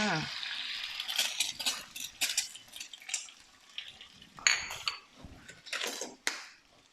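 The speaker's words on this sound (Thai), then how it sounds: "ไข่ลงไปเลยค่ะ" An egg frying in a hot pan, with a bright sizzle that swells and fades in uneven bursts, close and moderately loud.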